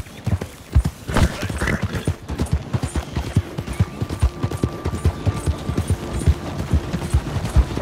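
Horse hooves clip-clop steadily on the ground in Red Dead Redemption 2, a close, even trotting rhythm that carries throughout, with a rider briefly calling out.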